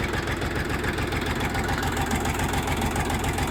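A Chinese mini tractor with a Bomet inter-row cultivator chugs steadily nearby, its engine running cold with an even, rapid low-pitched knock and no voices over it.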